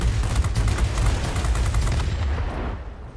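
Rapid weapon fire from a Me 109 fighter in World of Warplanes, a loud continuous stream of booming shots with heavy low-end thump that tapers off at the end.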